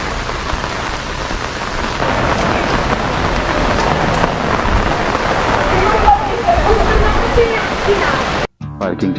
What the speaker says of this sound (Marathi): आपल्या समोर वॉटरफॉल.